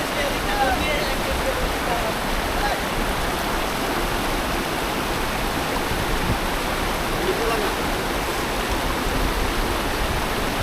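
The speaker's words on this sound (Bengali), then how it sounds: "এইখান দিয়ে ঝর্ণার পানি নামে।" Waterfall water rushes down at Bichanakandi in Sylhet, a loud, steady broadband roar filling the whole scene without pause.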